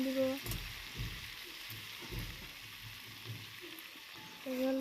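Masala hisses and sizzles faintly in a pan while being stirred, with soft scraping thumps and a steady fry hiss, and water is added near the end.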